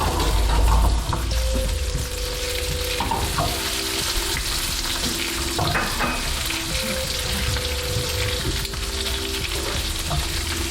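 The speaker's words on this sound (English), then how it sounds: "So what I'm doing now is I'm browning the bacon." Bacon browning in a pan gives off a loud, dense, constant sizzle, with occasional scraping stirs and clatter close by and no talking.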